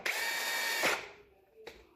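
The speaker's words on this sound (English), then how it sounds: "The center bit is making a pilot hole or a starter hole for the bigger" A power drill with a center bit whirs loudly for about a second while boring a pilot hole, winds down, then gives another brief burst.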